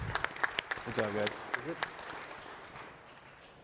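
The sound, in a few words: audience applause for the panel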